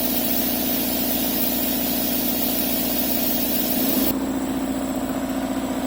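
A rebuilt air compressor runs steadily while building pressure, a loud continuous motor drone with a rapid pumping throb, shifting slightly in tone near the end, with no talk.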